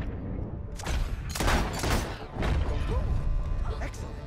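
Bursts of gunfire in Red Dead Redemption 2 crack through a noisy game scene, loud and layered with crashes and background game sound.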